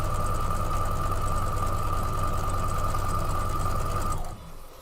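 A sewing machine stitches quilt fabric pieces together in a steady, fast mechanical hum and patter close by, running evenly before stopping abruptly near the end.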